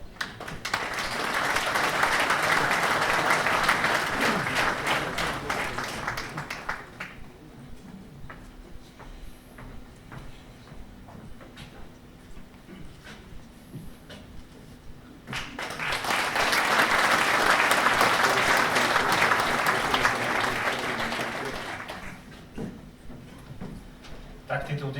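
Applause from an award ceremony audience at the Village of the Year 2025 prize giving in Budmerice, with two long bursts of clapping separated by quieter room noise.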